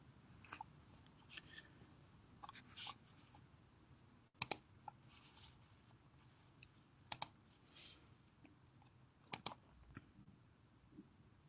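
Computer mouse clicks while a new project is opened in 3D modelling software: a few faint scattered clicks, then three sharper, louder double clicks spaced a few seconds apart over a quiet background hum, with no talking.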